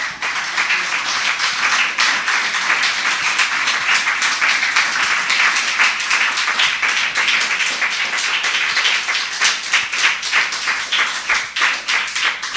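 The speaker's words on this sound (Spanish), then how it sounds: "dale un aplauso al Señor" A church congregation claps in sustained, rhythmic applause, a dense steady patter of many hands continuing evenly for several seconds with no talk over it.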